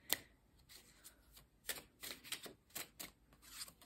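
A tarot card is drawn and laid out from the deck, giving a string of soft, quick papery flicks and slides, close and quiet, with no talking.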